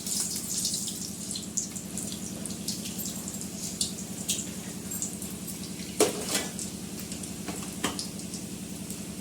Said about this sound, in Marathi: तर हे बघा ह्या पद्धतीने असे आपण सर्व समस्या असे तळून घेणार आहोत